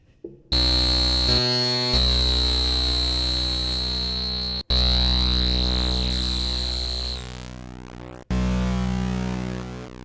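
Three long, harsh distorted notes from an Arturia PolyBrute synthesizer, each sustaining and crackling as the sound breaks up and decays, with brief gaps between them.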